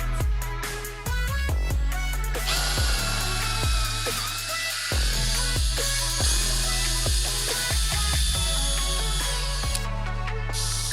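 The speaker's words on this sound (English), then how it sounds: "what you're doing is countersinking for the Corby bolts" A power drill whines steadily in repeated bursts, stopping and restarting several times as it countersinks holes in a wooden knife handle, loud and close.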